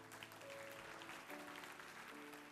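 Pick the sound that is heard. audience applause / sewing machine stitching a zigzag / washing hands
audience applause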